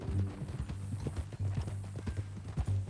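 Horse hooves clip-clop at a steady walking rhythm in Red Dead Redemption 2, close and distinct, with regular thuds carrying through the whole stretch.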